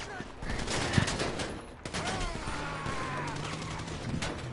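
Gunfire in GTA 5 Online, steady overlapping shots at moderate distance, fairly quiet and sustained throughout, with other game noise mixed in.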